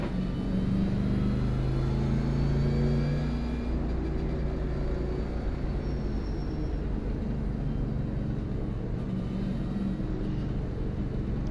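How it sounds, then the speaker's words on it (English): A pace car in the iRacing game, a K&N National Series race at Richmond, holds a loud, steady engine drone with a low rumble and faint pitch shifts throughout, no voices. "It's the pace car."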